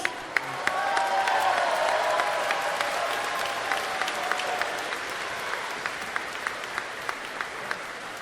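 Crowd at a live all-star extravaganza event applauding and cheering a winner, steady dense clapping with scattered sharper claps standing out nearby.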